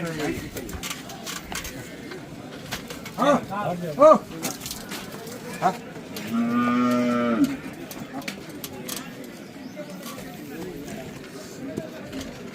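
Buffaloes at a livestock market, with a few loud moos and grunts rising out of a busy background, people talking nearby over the animal calls.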